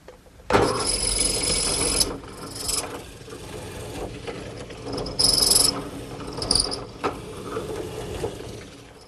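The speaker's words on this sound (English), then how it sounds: "I'm using my drill press, which has been outfitted with this mortising attachment." A drill press with a mortising chisel grinds and rasps through wood in several bursts, mechanical whirring and scraping, close and moderately loud.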